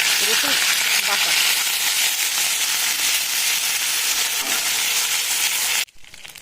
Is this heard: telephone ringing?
no